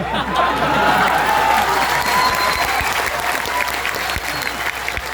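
Loud, sustained applause from a large crowd at a mushaira (poetry gathering) in Dhaka, East Champaran, India, dense clapping filling the whole stretch with a roar of many hands.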